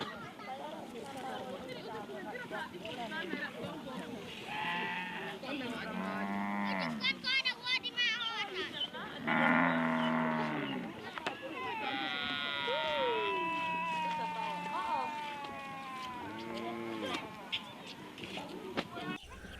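A herd of cattle and sheep near the edge of a desert lows and calls, with several drawn-out moos rising and falling while a voice talks over them.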